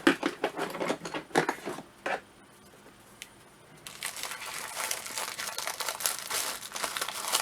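Crinkling, crunching tough plastic packaging handled up close, with a burst of sharp scissor snips and rustles, a brief quieter pause, then continuous crackling.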